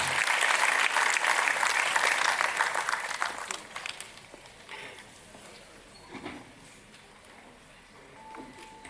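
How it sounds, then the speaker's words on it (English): An audience at a conference inaugural session applauds the chief guest, loud dense applause for about four seconds that thins and fades into quieter scattered claps and room noise. "Let us all express our appreciation with a thunderous round of applause"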